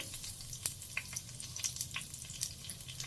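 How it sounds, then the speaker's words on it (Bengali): Nigella seeds sizzle sharply in oil already used to fry fish, giving a close, crackling hiss broken by quick bright pops and spatters. "যেই তেলে মাছ ভেজেছিলাম সেই তেলে আমি দিয়ে দিচ্ছি কালো জিরে"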